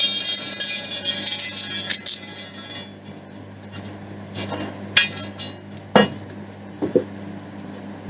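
A metal rod slides through the handle loops of a metal bucket during an oil change on a Peugeot 508 1.6 HDi, producing close metallic clinks, scrapes and ringing taps, several sharper knocks toward the end.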